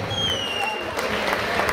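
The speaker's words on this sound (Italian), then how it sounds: "facciamo un grosso applauso." Audience applause at a dance company performance: dense, steady clapping from a crowd, close and continuous for the short span, with faint voices mixed in.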